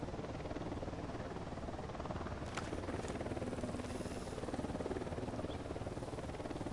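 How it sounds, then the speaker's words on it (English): A helicopter in the video game Ghost Recon Wildlands gives a faint, steady, distant rotor drone that holds at a low, even level throughout, with no voices. "We've got a chopper here."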